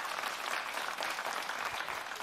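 A crowd claps for Grishka, steady dense applause at a moderate distance, unbroken for a couple of seconds without talk.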